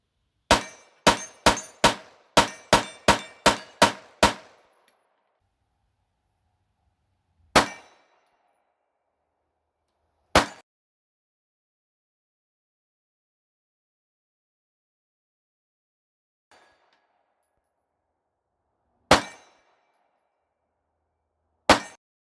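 A Shadow Systems pistol fired through a magazine: a rapid string of about ten loud sharp shots at the start, then single shots spaced seconds apart with silence between.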